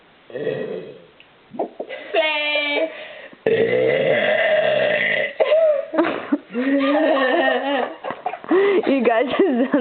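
People burp in a burping contest, several long, croaking belches in a row, loud and close, mixed with giggling and chatter.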